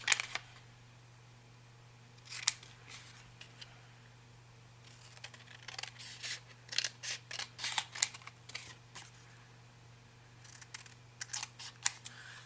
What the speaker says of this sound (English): Let me just cut this out real quick.